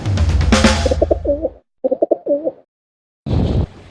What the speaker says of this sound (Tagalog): Dito umuwi yung ating mga kalapati. Dito sila nagbabahay.